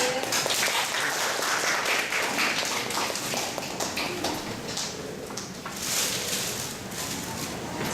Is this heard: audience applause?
yes